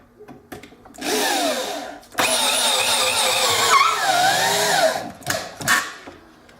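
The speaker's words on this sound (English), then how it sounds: "It's a good thing about a multi-speed drill." A multi-speed power drill whirs in two long bursts at shifting speeds while building a bed, its pitch sliding up and down, with short clicks and taps between runs.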